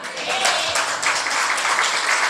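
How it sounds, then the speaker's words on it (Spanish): A church congregation breaks into loud, continuous applause, many hands clapping together in a dense wash with faint voices mixed underneath. "El aplauso es para Él."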